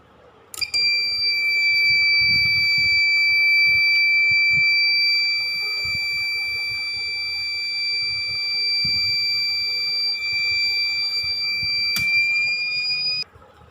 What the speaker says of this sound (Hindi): अगर ऑन करते हैं तो ये बीप करता है